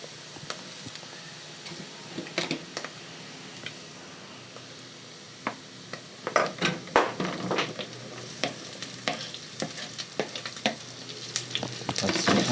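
Meat frying in a pot for Swahili pilau over golden-browned onions, with steady sizzling and repeated scraping stir strokes that grow busier and louder in the second half.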